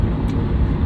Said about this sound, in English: I'm in my car today